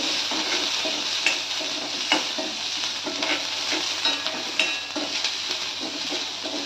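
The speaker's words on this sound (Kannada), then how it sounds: "ಇಲ್ಲಿ ಆನಿಯನ್ ಕಟ್ ಮಾಡಿ ಇಟ್ಕೊಂಡಿದ್ದೀನಿ, 1 ಆನಿಯನ್ ಸಣ್ಣದು ಚಿಕ್ಕದು, 4 ಕರಿಬೇವು, ಸ್ವಲ್ಪ ಫ್ರೈ ಮಾಡ್ಕೋಬೇಕು" A small onion, curry leaves and cumin frying in oil in a pan for a pasta dish, a steady close sizzle with regular scraping stirs and light clinks of a spoon against the pan.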